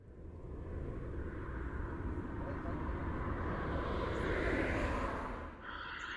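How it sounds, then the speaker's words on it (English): A fixed-wing airplane drones in flight as a film sound effect, a steady broadband rumble that swells slightly before easing off near the end. "I felt better once I got on the plane"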